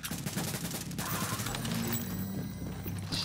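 Video game gunfire: a short burst of rapid shots at the start, then a dense stretch of clattering combat noise and rumble, with no talk over it.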